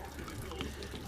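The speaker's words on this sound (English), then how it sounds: "Then you're going to lose all the water in your hot water tank. So it gives that a good flush." Water gushing and flushing out of an RV hot water heater tank as it drains, a steady close rush of running water with no talk over it.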